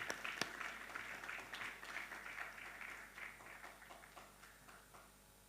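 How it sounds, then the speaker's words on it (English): Audience applause welcoming a speaker at a conference session, a fairly faint, steady patter of many hands clapping that tapers off gradually over several seconds. "Let's welcome him with a round of applause."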